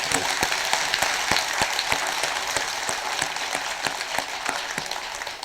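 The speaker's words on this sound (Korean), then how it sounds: "박수 한번 보내주십시오" A temple audience at a Buddhist Dharma service claps in a dense, steady round of applause. Individual sharp claps stand out close by above the continuous patter, with no talking over it.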